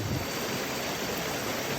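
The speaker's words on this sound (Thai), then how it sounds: "มองน้ำโตลงไปก็โดดลงหน้าผาเลยน้ำเนี่ยหน้าผาสูงมอง นี่ละน้ำตกบ้านในห้วย" A waterfall drops over a high cliff near a village in Thailand, producing a steady, dense rushing roar of falling water with no pauses, heard alone.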